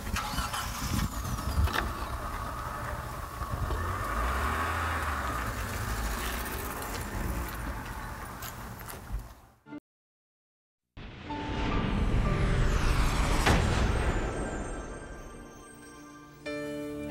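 A car engine turns over and starts, then revs and pulls away, loud and steady with a brief silent gap midway before the driving noise swells again.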